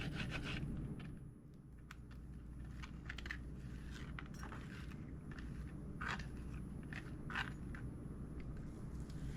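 A knife chops food into small pieces on a board, giving soft, irregular taps and crunchy cuts at close range over a faint steady background hum.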